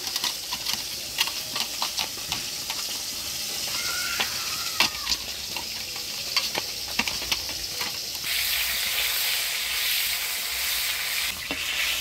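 Fish pieces drop into hot oil and fry with a continuous crackling sizzle, scattered sharp pops and spatters, and the hiss growing louder and denser toward the end, heard close up with no talking.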